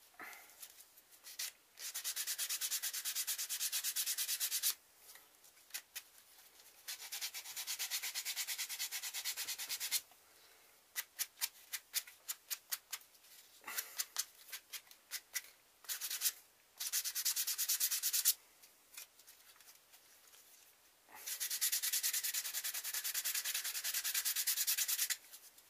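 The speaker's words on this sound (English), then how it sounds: "with the sandpaper as well, I can just run it around the edges, just to round it off a little bit" Sandpaper rubs around the edges of a homemade bushcraft ferro rod neck sheath in repeated bursts, with steady stretches of scratchy rubbing broken by short strokes and brief pauses. The sound is close but fairly quiet.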